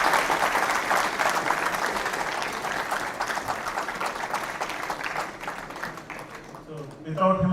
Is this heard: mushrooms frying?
no